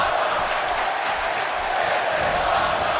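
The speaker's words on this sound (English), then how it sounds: "with a "This is awesome" chant, this crowd is electric" Wrestling crowd at an NCW Adrenaline independent show roaring and chanting steadily, a dense, loud, continuous wall of cheers and shouts with no pause across the whole stretch.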